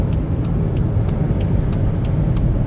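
A BMW 2 Series Gran Tourer 220 with a 190 hp engine pulls hard under heavy throttle. A loud, steady low rumble of engine and road noise fills the cabin without pause, and no one speaks.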